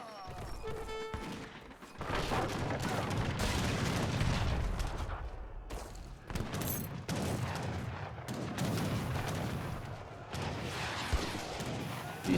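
Rocket volleys and gunfire in Age of Empires III: Definitive Edition, a dense, continuous barrage of booming shots and crackling impacts with brief bursts of talk over the top.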